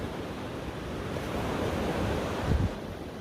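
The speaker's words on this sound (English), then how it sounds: "we're headed towards the marina along Cerritos Beach" Surf washing along Cerritos Beach in Mazatlan with steady wind buffeting the microphone, a continuous broad rush with no talk.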